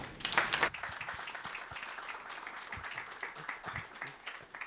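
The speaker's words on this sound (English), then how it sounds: "So welcome our panel today with a round of applause" A business forum audience claps for the session's panel, a short burst of scattered applause near the start that thins into lighter, sparse clapping and faint murmuring.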